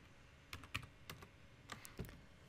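A computer keyboard is typed on with a few scattered, quiet keystrokes while a command is entered in a Windows terminal, close and alone in a hushed room.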